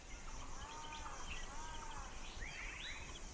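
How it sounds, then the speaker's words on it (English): Several birds sing and chirp faintly around a stone house, thin warbling calls drifting in and out over a steady background hiss, with a brighter burst of song near the end. "If you listen very carefully, you can hear all the birds."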